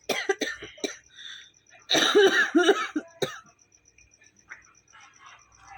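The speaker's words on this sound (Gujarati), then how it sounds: "ઉધરસ જો" A few sharp coughs close by, then a burst of harsh throat-clearing coughs, followed by quieter scattered sounds and faint background chirps.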